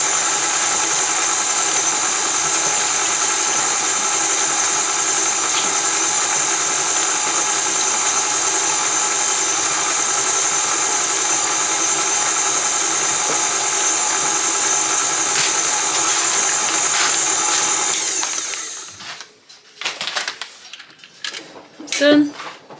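An electric hand mixer beats brownie batter in a bowl, a loud, steady whirring motor hum that runs for most of the time before switching off, followed by a few clinks and faint handling sounds.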